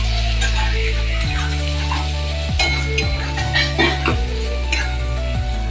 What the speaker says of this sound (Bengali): একটুখানি ভাজবো ভালোভাবে।